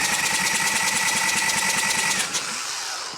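Evo Sportster chopper engine cranking over on the starter with the oil filter off during oil priming, a steady rapid mechanical whirring chug with fast regular pulses that slows and fades near the end.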